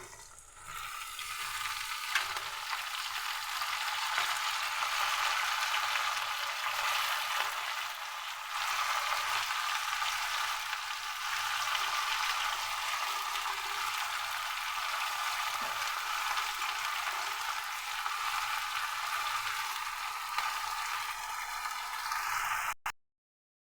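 Onion and tomato fry in oil in a pan with a steady, close, bright sizzle that holds for over twenty seconds before cutting off abruptly.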